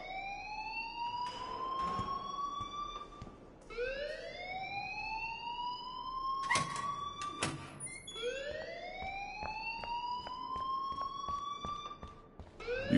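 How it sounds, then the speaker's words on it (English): A school alarm in the game Life is Strange wails in repeated rising sweeps, about four long cycles, loud and continuous, with faint background noise and no talk. "please turn off that alarm since that's your job"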